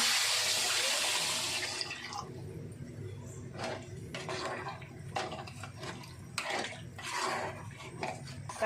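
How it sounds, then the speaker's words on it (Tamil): Water pours into sambar simmering in a cooking pot, a steady splashing rush for the first two seconds, then quieter bubbling and clinks with no voices. "கொஞ்சமாக தண்ணி சேர்த்துக்கலாங்க"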